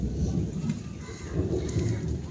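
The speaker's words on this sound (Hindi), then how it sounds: "बारिश पै रही, बारिश कल शाम की शुरू हुई है जी" Steady rain pours down with a dense, constant hiss and low rumbling, continuous and close throughout.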